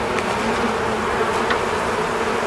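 Honeybees at an open hive in a beekeeping inspection, a dense, steady close buzzing swarm filling the whole stretch with no talk.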